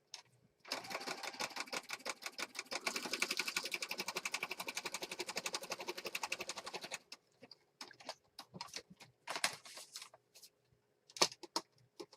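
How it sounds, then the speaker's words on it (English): A sewing machine runs steadily for about six seconds, stitching around a piece of a junk journal with a fast, even mechanical chatter. A series of scattered short stitch bursts and clicks follows. "now I'm going to stitch around this piece"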